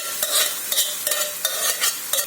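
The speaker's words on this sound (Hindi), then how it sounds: "मैश किया हुआ दाल डाल देती हूँ।" A spoon stirs mashed split urad dal into sizzling oil with mustard seeds and vegetable masala in a kadai: about six rhythmic scraping strokes over a continuous frying hiss, close and clear, no voices.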